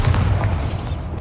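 A Bombarda explosion spell cast in the video game Hogwarts Legacy during a fierce fight with a spider, a single deep booming blast with a rumbling low body that fades over about a second.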